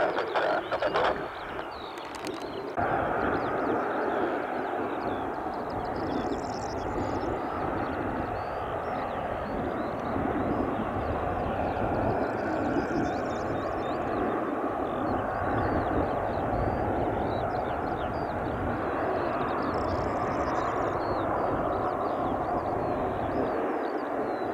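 An Air Namibia Airbus A330 is heard at Leipzig/Halle Airport as a steady, loud jet-engine roar with broadband rumble, after a brief disturbance at the start.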